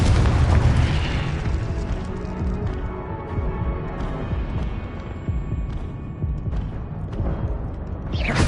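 Confringo blasting-spell explosions in Hogwarts Legacy, a loud booming burst up front followed by rumbling magical blasts and crackles, with another sharp burst at the end, no voices.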